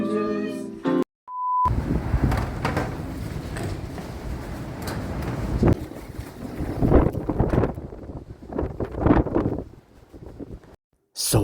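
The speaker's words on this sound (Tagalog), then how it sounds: "Umuulan at sobrang lakas ng hangin" Heavy rain and strong gusting wind outside a garage roar steadily and swell in surges, after a brief beep near the start.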